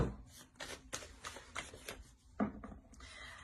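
Oracle cards shuffled by hand for a tarot-style reading, a series of soft papery riffles and flutters in quick bursts, close and fairly quiet with a louder slap near the end.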